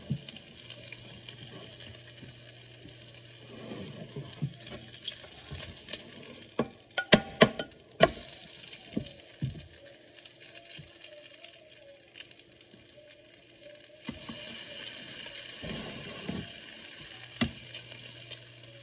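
Bacon frying in a pan makes a steady close sizzle, with a burst of clattering stirs and scrapes in the middle and a louder hiss near the end.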